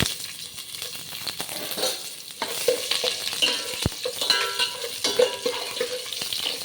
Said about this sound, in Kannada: ಇದಕ್ಕೆ ಇವಾಗ ಸ್ವಲ್ಪ ಕರಿಬೇವು ಹಾಕ್ಕೊತಾ ಇದ್ದೀನಿ ಜೊತೆಗೆ ಈರುಳ್ಳಿನೂ ಹಾಕ್ಕೊತಾ ಇದ್ದೀನಿ